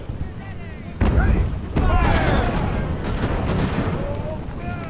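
A broad crashing volley of musket or cannon fire erupts in Ultimate Admiral: Age of Sail, two heavy bursts close together followed by a sustained rolling rumble of battle noise.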